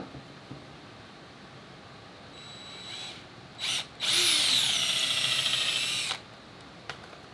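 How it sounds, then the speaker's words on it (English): A power drill bores an eighth-inch hole in plywood, whining loudly for about two seconds after a brief short burst, close by, with a few faint clicks before and after. "now I can use my drill bit and drill like an 1/8 inch hole right"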